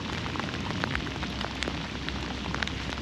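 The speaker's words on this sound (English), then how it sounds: "The rain's getting heavier" Heavy rain pouring down during a thunderstorm while fishing, a dense, steady hiss of drops hitting the surface, fairly faint and continuous, with no voices.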